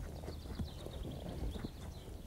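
Hoofbeats from a horse walking forward under a rider, soft irregular clip-clops over a steady outdoor background, fairly quiet with no talking.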